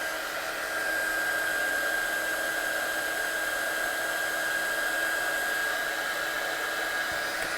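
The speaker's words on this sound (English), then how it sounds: "I'm just going to blast this one off with my heat gun" A handheld heat gun blows hot air over freshly stamped ink in a papercraft session, a steady, close whirring blast with a high tonal whine that runs unbroken for several seconds.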